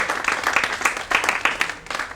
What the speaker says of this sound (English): Such a big round of applause for it